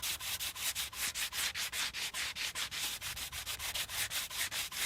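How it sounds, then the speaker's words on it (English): Wooden window trim gets a light hand sanding with 120 grit sandpaper, an even back-and-forth rasp of about four strokes per second, close and fairly quiet, with no talking. "We only have a 120 grit sandpaper on hand, which I've been using and is totally fine."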